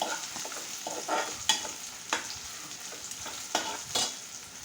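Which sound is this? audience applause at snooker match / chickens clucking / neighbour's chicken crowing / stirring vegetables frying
stirring vegetables frying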